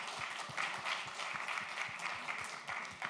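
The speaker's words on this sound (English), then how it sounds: "a round of kind and warm applause" An audience at an IT talk applauding steadily, a dense wash of many hands clapping at moderate distance, with a few louder individual claps standing out.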